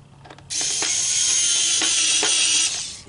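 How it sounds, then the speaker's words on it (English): Power screwdriver driving screws into an adapted Linkimals owl toy, a steady loud whir lasting about two seconds with a few clicking pulses, close and alone. "Now I'm going to quickly put at least one or maybe two screws into here so it doesn't come apart."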